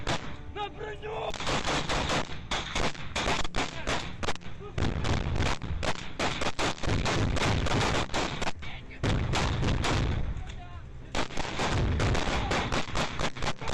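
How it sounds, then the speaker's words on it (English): Gunshots are exchanged in combat in a stairwell, with dense bursts and rapid volleys of loud, close firing, short pauses between them and voices faintly mixed in. "They do trade a few shots back and forth with the Ukrainians on the stairwell"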